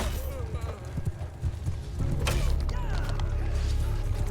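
Cavalry hooves drum beneath a Mount & Blade II: Bannerlord battle as heavy horse charge, a dense clattering rumble mixed with creaks and game noise, with a voice talking over the top.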